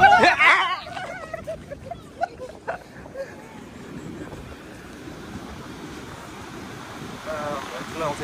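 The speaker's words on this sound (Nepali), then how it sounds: "छालहरू" Ocean waves break and wash onto the shore in a steady, broad rush with gusts of wind hitting the microphone, strongest at the start and then settling into a continuous surf roar.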